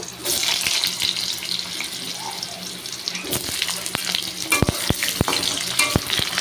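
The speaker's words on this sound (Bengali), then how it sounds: "এই যে টুকরো করা আলুটাকে আমি সুন্দর করে লাল লাল করে ভেজে নেব" Potato pieces fry in hot oil, a close steady sizzle with intermittent stirring and sharp clinks of a utensil against the pan, growing busier in the second half.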